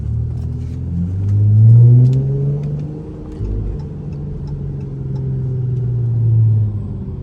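A Chrysler 300 driving at night gives a low engine rumble that swells, eases off and rises again as the car accelerates, steady and close with no voices.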